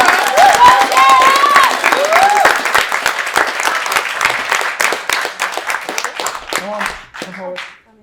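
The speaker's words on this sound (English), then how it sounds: "So a round of applause for her." Loud applause from a theatre audience after a production of A Midsummer Night's Dream, honouring the stage manager, with a few whoops and voices over the clapping before it dies away.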